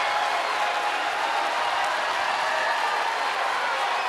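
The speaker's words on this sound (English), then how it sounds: "Take a look at some of the fans on their feet, cheering on their teams" Basketball fans cheering at a boys state final game, a dense, steady wash of crowd roar and applause filling the arena, loud and continuous without breaks.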